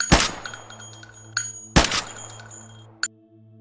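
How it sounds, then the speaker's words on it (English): Two loud, sharp gunshot cracks spaced over a second apart ring out with lingering tails, followed by a smaller, fainter impact, staged as the assassination of Israeli Prime Minister Yitzhak Rabin by Yigal Amir beside his parked car at night. "3 gunshots ring out."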